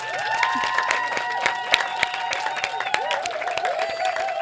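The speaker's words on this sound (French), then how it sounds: "Est-ce qu'on peut applaudir pour Lévi et Ophélie, s'il vous plaît?" Audience applause after a live French podcast recording, a dense steady patter of clapping held for several seconds with a few sharper claps standing out.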